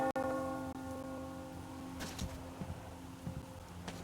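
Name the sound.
bell ringing in the video game Metro Exodus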